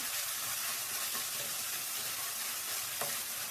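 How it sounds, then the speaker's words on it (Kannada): Onion and tomato frying with salt in a pan for a Kannada-style brinjal curry, a steady bright sizzle with faint stirring scrapes and no talk. "ಉಪ್ಪು ಹಾಕೊಂಡ್ಮೇಲೆ ಈ ಥರ ಚೆನ್ನಾಗಿ ಫ್ರೈ ಮಾಡಬೇಕು"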